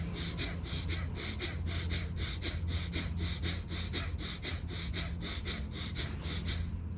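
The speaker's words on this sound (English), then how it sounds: "And now we're going to do the breath work." Rhythmic pranayama breathing during a high-intensity muscle yoga workout, with rapid forceful exhalations pulsing in a steady fast train of about three per second, close and continuous, ending with a brief pause.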